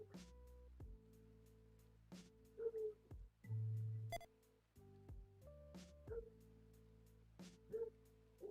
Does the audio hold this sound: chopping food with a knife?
no